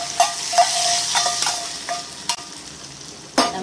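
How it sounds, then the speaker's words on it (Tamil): Hot oil tempering being poured into a tamarind gravy for pulikoottu gives a close, steady sizzle, punctuated by several sharp metallic clinks of utensils against the pan, with no talking. "நம்ம தாளிப்பை தூக்கி அதில் ஊற்றிடுவோம்"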